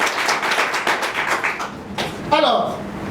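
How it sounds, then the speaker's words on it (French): Audience applause at a school competition finale, a dense patter of many hands clapping under a loud speaking voice, fading briefly before a brief rise. "Applaudissez pour les écoles publiques."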